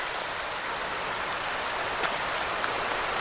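A creek rushes steadily beside the eroded, abandoned Old Route 82 highway, a constant broadband hiss of flowing water heard alone at moderate distance.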